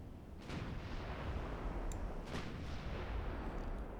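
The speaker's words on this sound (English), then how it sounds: "We're already firing away. High explosives." Warship main guns in Ultimate Admiral Dreadnoughts fire high explosive shells, with dull booms and sharp cracks near 0.5 and 2.4 seconds over a steady low rumble of battle noise.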